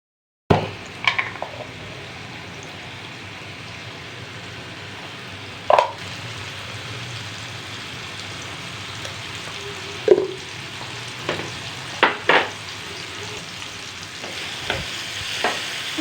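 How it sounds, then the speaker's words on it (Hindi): Crushed red chili, white cumin, turmeric and salt fry gently in oil, a soft low sizzle under scattered spoon scrapes and clinks against the pan. "कुटी हुई लाल मिर्च, सफ़ेद ज़ीरा, थोड़ी सी हल्दी और नमक डाल के मैंने इसको फ्राई करना शुरू किया है।"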